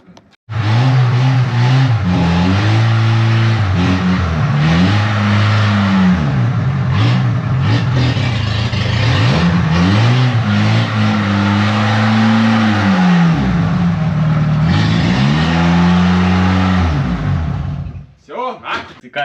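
A Volkswagen Golf engine drones loudly and steadily up close, with pitch rising and falling through repeated rev cycles as it accelerates, then cuts off near the end.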